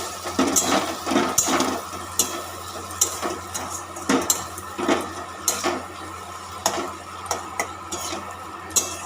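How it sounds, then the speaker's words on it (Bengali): Chopped tomato is stirred into spices in a pan, giving a run of soft scraping and clinking spoon strokes in an uneven rhythm, close up, with a faint sizzle underneath and no speech. "টমেটো কুচি দেওয়া হয়ে গেছে নেড়ে দিচ্ছি"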